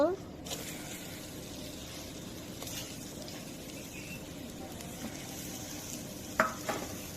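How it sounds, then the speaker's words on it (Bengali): Onion, garlic and green chili frying in oil in a pan, a soft steady sizzle with occasional scrapes and clinks of a utensil, faint and close. "তেল দিয়ে দিব পেঁয়াজ রসুন কাঁচামরিচ দিয়ে দিব"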